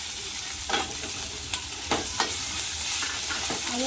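Amla chutney mixture sautéing in a little oil, a continuous close sizzle broken by a few sharp scraping strokes of a spoon stirring the pan, with no voices.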